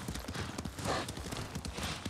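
Horse hooves clip-clop in a quick, even rhythm as a rider travels on horseback in the Ghost of Tsushima video game, close and clear under a faint bed of sound.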